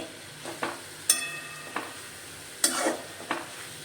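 Fenugreek leaves (methi bhaji) sautéing in oil in a pan, a low sizzle with a handful of sharp spoon scrapes and clacks against the pan, close and without speech.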